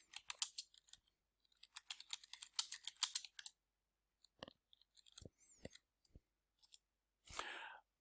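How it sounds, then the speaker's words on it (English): Text is typed on a computer keyboard in quick bursts of light, close key clicks, then sparser isolated taps and a final short rustle, all faint with silence between. "in the block content area, I can type some text in directly"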